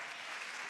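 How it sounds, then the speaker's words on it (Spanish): A church congregation applauds during a Spanish-language service, a brief, soft, even rush of many hands clapping together. "Fuertes aplausos a nuestro Dios en esta tarde"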